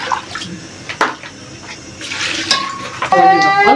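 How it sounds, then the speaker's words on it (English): Water is poured into a cooking pot while preparing food, a splashing, gurgling pour that builds toward the end after a few clinks of the pot. "I'm going to add water."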